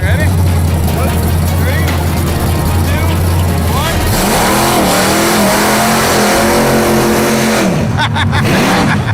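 A car engine is revved hard with the accelerator floored, a steady loud drone that gives way to rising and falling surges, with voices talking over it throughout.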